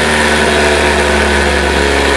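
A small test coil motor spinning at about 5,000 RPM, a loud, constant electric whine and hum with steady tonal layers, unbroken for the whole stretch.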